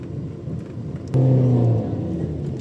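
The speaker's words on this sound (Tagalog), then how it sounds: "Yan, mga nakamotor po na yan." Motorbikes on a rural road near farmland in Tanay, Rizal, one engine rising loud and close for a moment over a steady background rumble before easing back.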